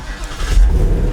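A 2018 Ford Mustang engine turns over and catches, rising into a low, loud rumble close by.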